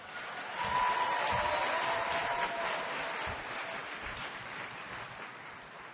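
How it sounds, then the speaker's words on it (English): An audience at a university convocation applauds Joe Colella, a broad, even wash of many hands clapping at a distance, steady and gradually softening. "Put your hands together for Joe Colella."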